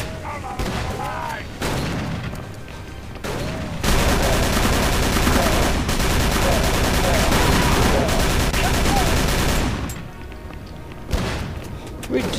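A gun fires repeatedly in the video game Call of Cthulhu, loud rattling bursts that swell into a long sustained volley, with game sounds and a voice talking around it.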